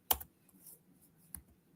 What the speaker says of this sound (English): So I'm going to type economic mobility